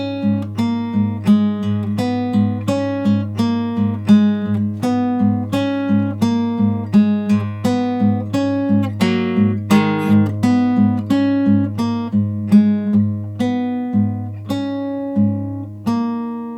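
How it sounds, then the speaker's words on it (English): An acoustic guitar picks the first line of a piece from Dying Light: The Beast, a steady melody of clear plucked notes over sustained low strings, close and alone with no voice. "or like I'm playing here, an acoustic guitar."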